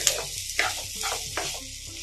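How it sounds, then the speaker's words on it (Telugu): Thinly sliced onions fry in a pan for a bitter gourd onion fry, a close steady sizzle with a few soft stirring scrapes over two seconds. "సన్నగా కట్ చేసుకుని ఇలా ఫ్రై చేసుకోవాలి"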